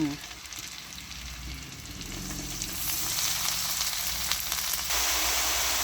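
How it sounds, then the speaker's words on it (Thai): Oyster mushrooms stir-fried with chili and garlic sizzle steadily in a hot pan, with soft scraping of stirring throughout; the frying grows a little louder and fuller partway through, with no talking. "ผัดให้เข้ากันผัดให้เฮดซุกนะจ๊ะ"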